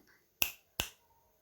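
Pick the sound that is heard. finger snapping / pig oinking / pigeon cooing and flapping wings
finger snapping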